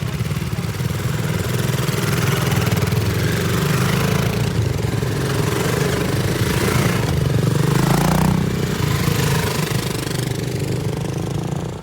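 A 2022 BSA Gold Star single-cylinder motorcycle is ridden, its engine thumping loud and close in a steady, building drone that holds for the whole stretch.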